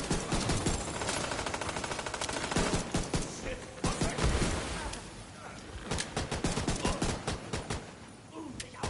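Rapid bursts of gunfire in the video game The Division 2 crackle almost without pause, dense automatic fire with a few single shots, loud and close throughout.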